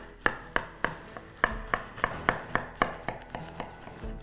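A knife cuts through a freshly baked steak and ale pie in a dozen evenly spaced crisp strokes, each a sharp crunch against the plate, quiet and close.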